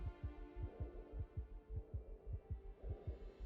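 Heartbeat effect from a space exploration video game, heard as a steady run of soft, deep thumps in a regular rhythm over a faint low hum, with no speech.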